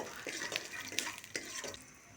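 Peanuts are lightly fried in a little sunflower oil: faint, soft sizzling with several quick scrapes and light clinks of a spoon stirring against the pan.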